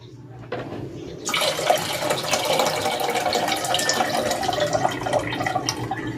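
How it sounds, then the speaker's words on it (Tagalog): Water being poured into a pot to make gulaman, a steady close splashing and gushing stream that starts abruptly and continues unbroken at even loudness. "Maglalagay ako ng tubig."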